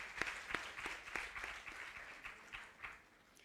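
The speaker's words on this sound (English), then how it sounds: "Clap for her, please." A small audience at an International Women's Day event in Freetown claps for a girl, a faint, slightly distant patter of hand claps in loose rhythm that thins out after a few seconds.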